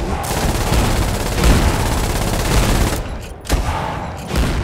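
Dense video game gunfire in a fight against colonial artillery: loud, overlapping bursts and volleys run almost nonstop, with a brief lull before more shots.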